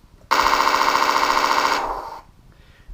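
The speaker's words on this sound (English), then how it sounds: "in order to fire the guns, you move quickly to the bottom. That will start them firing" The Elmod sound unit on a Torro M16 RC half-track plays a loud, rapid burst of electronic machine-gun fire lasting about one and a half seconds, then tapers into a fading rumble.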